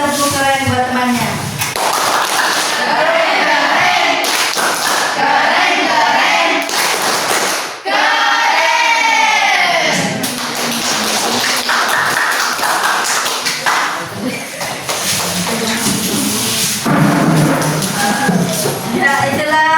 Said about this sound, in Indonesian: Oke, baiklah kita beri tepuk keren buat temannya.